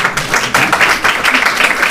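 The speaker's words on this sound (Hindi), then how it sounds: "इनके लिए तो तालियां बजाई दो।" An audience at a spiritual self-help talk claps together in a sustained round of applause, close and fairly loud, with no speech over it.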